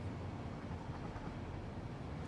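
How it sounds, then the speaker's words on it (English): A train in the video game Satisfactory rolls along its rails, a low continuous rumble with a faint steady wash of noise, quiet and unbroken, with no voices. "Let's just take the train on back."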